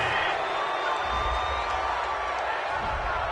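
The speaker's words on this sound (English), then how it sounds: "This home crowd, they're happy with that call." A home crowd in a Madden 20 football game roars steadily in the background, a broad sustained cheer under a commentator's voice.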